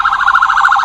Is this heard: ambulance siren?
yes